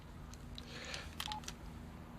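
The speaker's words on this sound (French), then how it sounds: "je vais appeler Nathan, je vais me faire passer pour quelqu'un d'autre" A telephone is dialed, several short electronic keypad tones sounding in a quick irregular sequence over a low steady hum, close and fairly quiet.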